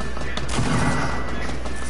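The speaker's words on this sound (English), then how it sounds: "Suppressed pistol!" Rapid suppressed pistol fire from a video game, a dense, loud run of muffled shots packed tightly together for a couple of seconds.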